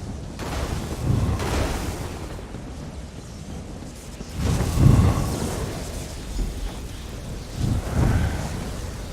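Lightning spell thunder in Elder Scrolls Online rolls in low rumbling waves, with three distinct booming swells over a steady noisy background.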